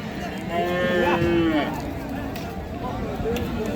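A red cow lows at the Kalampur cattle market in a long, drawn-out moo that rises over the crowd's steady hubbub, with people talking nearby.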